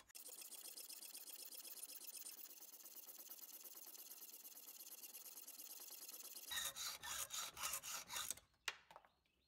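A hand saw rasps steadily through a metal jaw in a workshop, a continuous fast scraping for several seconds, then slower, louder separate strokes before it stops, close and alone.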